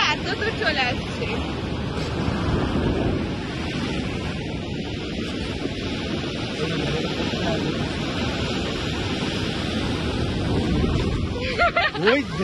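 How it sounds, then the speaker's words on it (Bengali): Big sea waves break and roar on the beach at Mandarmani with constant rushing surf and heavy wind buffeting the microphone, while people talk nearby. "একদম বড় বড় ঢেউ।"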